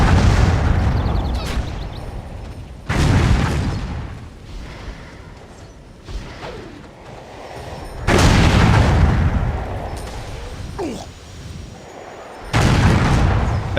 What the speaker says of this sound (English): The explosions, you see, they're using the cannons.